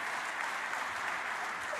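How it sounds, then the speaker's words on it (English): An award ceremony audience at the Paul "Bear" Bryant Awards Show gives sustained, even applause that fills the hall, with faint voices mixed in beneath the clapping. "So please give yourself a round of applause for knowing how much you're doing here."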